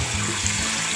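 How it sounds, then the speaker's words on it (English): Tap water running over tomatillos being rinsed in a kitchen sink, a steady loud splashing hiss for about a second. "we want to rinse all this stuff, make sure it's all well washed"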